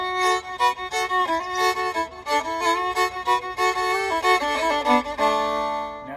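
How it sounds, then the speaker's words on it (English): Bright fiddle tune driven by a choppy shuffle bowing pattern, steady rhythmic pulses under the melody, ending on a held note. "And with the second shuffle, it sounds like this."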